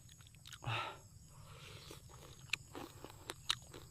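Someone bites into tough grilled food with one crunchy bite, followed by faint, scattered chewing clicks and smacks close to the listener in a quiet outdoor setting.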